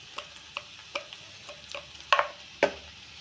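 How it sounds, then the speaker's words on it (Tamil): Potato poriyal sautéing with coriander, chilli and asafoetida powders, a spoon scraping and tapping the pan in a steady rhythm with faint sizzling beneath, close and fairly quiet, the last two strokes louder. "மல்லிப்பொடி எல்லாம் போட்டு நல்லா வதக்கியாச்சு"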